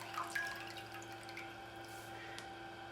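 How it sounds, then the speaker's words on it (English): Water drips faintly from a wet knitted lace shawl being squeezed out by hand, soft scattered drops into water with no talking. "And I'm going to squeeze out the excess water."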